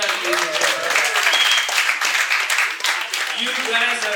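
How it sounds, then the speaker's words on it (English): A comedy club audience cheers and applauds in a dense, continuous wash of clapping and whoops, with a few scattered shouts rising above it. "I need a bigger cheer on that, ladies and gentlemen."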